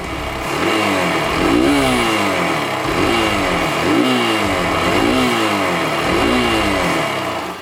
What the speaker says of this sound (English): The exhaust note of both these motorcycles is pretty decent.